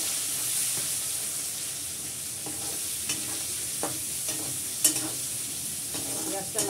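Onions frying in a pan for mutton curry, a steady sizzle with intermittent scraping stirs and clinks of a utensil, close up with no talk.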